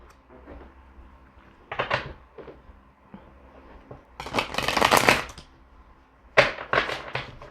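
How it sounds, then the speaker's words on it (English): Soft bursts of a Native Spirit Tarot deck being shuffled, a few quick riffles separated by pauses, fairly quiet and close. "They shuffle nice, and they're nice and quiet too."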